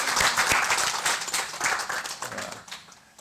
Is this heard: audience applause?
yes